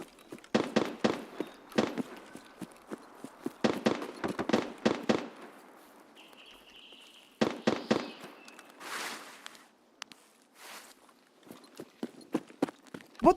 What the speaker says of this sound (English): He's got to be shooting at the NPCs at the house, right?